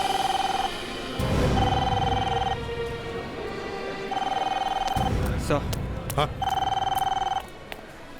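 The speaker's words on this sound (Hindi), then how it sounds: "सर, हाँ, फोन यहाँ से बज रहा है।" Telephone ringing with a repeated electronic bell tone in regular bursts, loud and close, while people talk over and between the rings.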